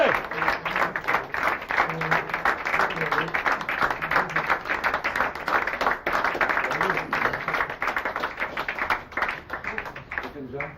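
An audience at a 1996 video game awards ceremony applauding the Gabriel Knight 2 adventure game prize, sustained dense clapping that fills the room while a voice speaks over it.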